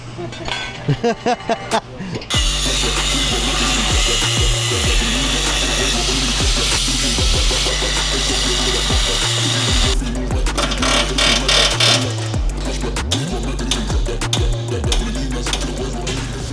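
Loud, continuous power-tool grinding with a harsh high-pitched whine as steel plates are cut off a Toyota Tacoma's front suspension, running steadily after a few brief metallic clanks at the start.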